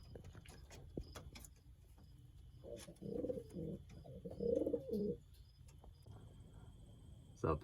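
Soft racing pigeon coos come in a few rounded bursts over a quiet outdoor background with faint chirps and distant traffic, in La Mars, Iowa.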